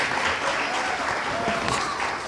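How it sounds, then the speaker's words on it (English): Audience applause at a Down syndrome awareness event and proclamation, a steady wash of clapping from a crowd sustained throughout at moderate loudness. "Give him a round of applause."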